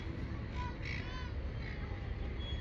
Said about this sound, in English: Oh, look at all the birds.